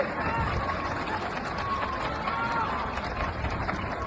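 A dense crowd greeting businessman Juan Roig, Mercadona's owner, with applause at a funeral in Valencia, a continuous loud wash of clapping and crowd murmur with voices mixed in.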